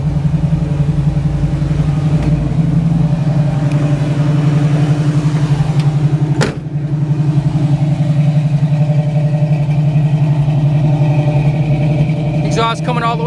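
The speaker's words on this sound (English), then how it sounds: "Nice little rumble to it. Got dual exhaust." A 1969 Chevrolet Camaro's engine idles with a steady, deep rumble through dual exhaust, a low throbbing note, loud and close, with a brief sharp click partway through.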